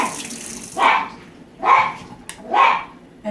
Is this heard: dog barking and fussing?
yes